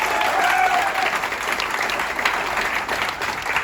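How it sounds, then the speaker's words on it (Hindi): Loud, sustained audience applause at a motivational seminar in Indore, a crowd clapping densely and evenly throughout, with a faint voice briefly underneath. "एक बार कृषि धन के लिए जबरदस्त तालियां।"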